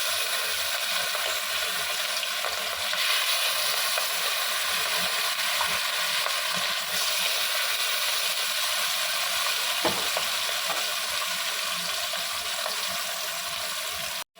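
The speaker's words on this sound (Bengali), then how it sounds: "তেলটা আমার গরম হয়ে গেছে, এবার মাছগুলো আমি আস্তে করে ভেজে নেব" Hilsa fish pieces frying gently in hot oil, giving a dense, continuous close sizzle that holds steady throughout with faint bubbling underneath.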